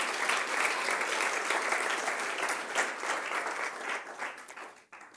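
Church congregation applauding during a sermon: loud, dense clapping from many hands, sustained for several seconds before dropping off abruptly at the end.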